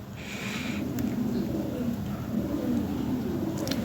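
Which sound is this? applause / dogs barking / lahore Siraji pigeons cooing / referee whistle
lahore Siraji pigeons cooing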